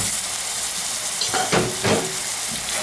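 Minced meat added to softened onions in a hot pan for a zucchini and ground meat tray bake, a continuous sizzle with a couple of louder bursts as the meat hits the oil.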